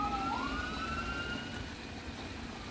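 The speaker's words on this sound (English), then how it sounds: "Can you hear the sirens?" A fire truck siren heard at a distance from an RV, one steady wailing tone rising over a constant background rumble of traffic.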